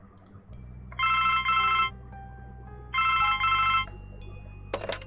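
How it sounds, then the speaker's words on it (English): Telephone ringing in The Blackwell Legacy adventure game: two bursts of a bright electronic double ring, each with two quick pulses, loud and close over a quiet low background hum, no talking. "I know the phone is ringing"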